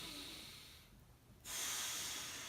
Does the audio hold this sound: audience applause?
no